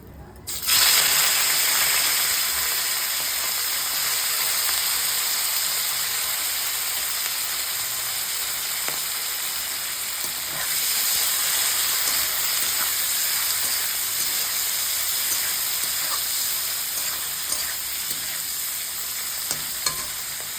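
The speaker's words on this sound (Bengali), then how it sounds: "তা লবণ দিয়ে আমি এবার মাছগুলো ভেজে নেব।" Salted fish fry in a pan of hot oil, giving a loud, unbroken sizzle and hiss that starts abruptly and carries on steadily for about twenty seconds, with faint scattered crackles and no talking.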